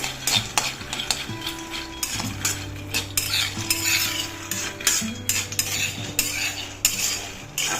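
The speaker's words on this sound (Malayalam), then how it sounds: "ഇതിപ്പോൾ നമ്മളൊരു ഹൈ ഫ്ലെയിമിലിട്ടിട്ട് കണ്ടിന്യൂസ് ആയിട്ട് ഇളക്കി കൊടുക്കുന്നുണ്ട്" Peanuts dry-roasted without oil over high flame are stirred continuously in a hot pan, giving rhythmic scraping and clinking of a spatula against metal with a faint rattle of nuts, close and clear with no talking.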